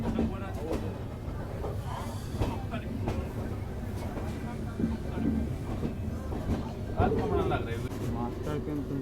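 The Uttar Sampark Kranti Express sleeper train halts briefly at a busy Indian railway station, with a rumbling rail and carriage clatter and intermittent clicks under a bustle of nearby voices.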